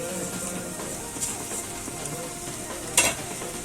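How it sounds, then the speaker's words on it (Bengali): Chilli-onion paste, chopped coriander and ground shrimp heads fry in a pan with a constant hissing sizzle, one louder clatter of stirring near the end, and no voices. "এখন মরিচ পেঁয়াজ বাটা এবং ধনেপাতা কুচি কিছুক্ষণ ভেজে নিলাম এবং এগুলোর ভিতর গুঁড়ি করা চিংড়ি মাছের মাথা ঢেলে দিলাম"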